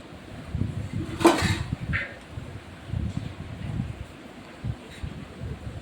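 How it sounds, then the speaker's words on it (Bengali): A lid lands on a large pot of basmati fried rice with one sharp metallic clank, followed by softer rustling and faint handling noise. "এবারে আমি একটা ঢাকনা দিয়ে দিলাম কিছুটা সময়"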